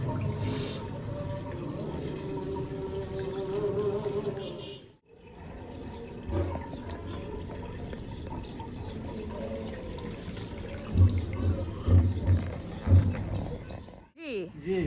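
Water is poured and splashed in a village home, a running, trickling wash that pauses briefly and resumes, mixed with nearby voices.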